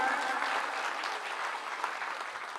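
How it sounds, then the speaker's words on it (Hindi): Loud applause from a gathered audience at a Shrimad Bhagavat Katha religious event, a dense, even burst of clapping that holds steady for a few seconds. "एक बार जोरदार तालियां"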